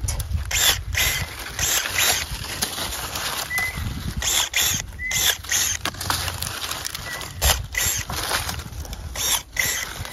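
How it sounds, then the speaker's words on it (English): Pruning snips cutting off last year's dry flower stems during a spring garden cleanup, giving a quick series of crisp snipping and rustling sounds close by, with no talking. "So I'm just going to kind of cut these stems off."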